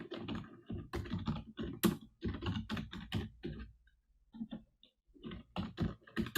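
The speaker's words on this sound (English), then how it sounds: "I'm hearing a lot of keyboards slamming." Many people typing on computer keyboards at once during a timed online workshop writing exercise, a dense, continuous clatter of overlapping keystrokes, fairly close and steady, pausing briefly midway.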